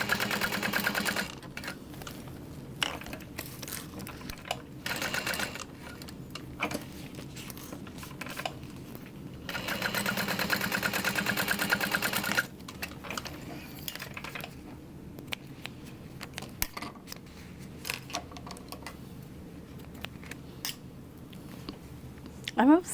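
A sewing machine stitches a sling bag in short bursts of rapid needle clatter separated by pauses, running close and fairly loud while stopping and pivoting at corners.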